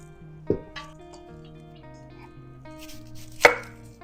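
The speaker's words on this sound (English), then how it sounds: "I'm gonna cut these up into maybe bite-sized pieces." An onion being cut into bite-sized pieces on a board, two sharp knife chops a few seconds apart against a faint tonal background hum, close, with no talking.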